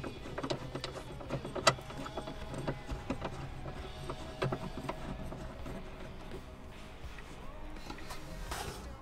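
A 13 mm socket on a ratchet tightens a bolt on a MOLLE bracket in the cargo area of a four-door Bronco. Close, repeated ratchet clicks come in uneven bursts over a faint mechanical clatter.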